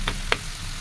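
Radish frying in a pan with shrimp, onion, garlic, tomato and green chili, two short scraping stirs over a steady close sizzle.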